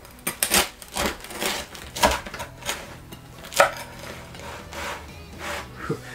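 A knife saws through the crackling crust of a freshly baked, still-hot bread loaf from a Dutch oven, giving a run of crisp, crunchy cutting strokes close up with no talking.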